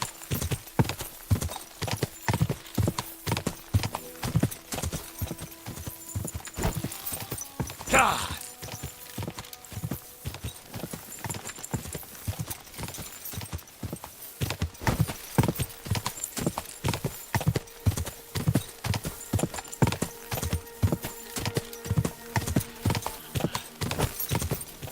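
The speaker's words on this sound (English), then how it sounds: "I get some more distance in with Horsey." A horse's hooves clip-clop in a steady, continuous rhythm as it travels along in the video game Kingdom Come: Deliverance 2, loud and close, with a brief whinny partway through.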